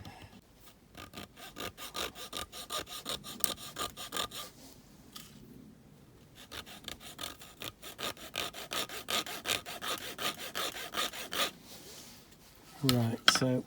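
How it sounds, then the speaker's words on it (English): A hacksaw cuts into a diecast Matchbox SuperKings K112 Peterbilt truck trailer, giving rapid, close, rhythmic rasping strokes with a brief pause midway and a clunk of handling at the end. "I'm just going to do that with a hacksaw."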